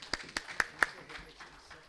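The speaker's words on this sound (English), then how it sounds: "Come on, let's give a round of applause." A few sharp claps at a conference in Mumbai ring out, with several distinct hand strikes spaced apart that soften into faint scattered clapping from a small audience, with low chatter underneath.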